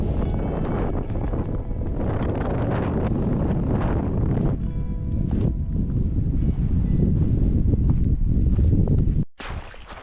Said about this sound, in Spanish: Mucho viento.